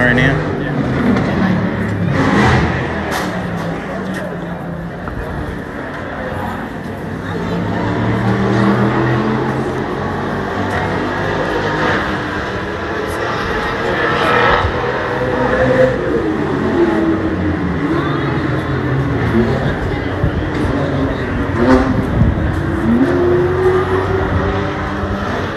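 A race car rolls into the pit lane during a mid-race stop, its engine droning and shifting through changing pitches amid steady pit-lane noise and voices.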